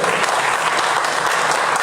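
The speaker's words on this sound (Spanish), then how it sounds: "le recibimos con un aplauso" A roomful of people claps continuously, a dense, even patter of applause at moderate volume.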